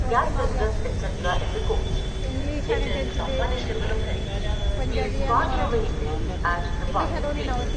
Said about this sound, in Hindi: हुजूर साहेब नांदेड रेलवे स्टेशन ही आहे